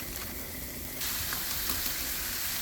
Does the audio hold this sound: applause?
no